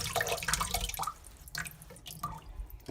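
Water flushing back through a faucet spout during a fixture flush repair, a close, uneven spattering and dripping with irregular bursts and brief quieter gaps.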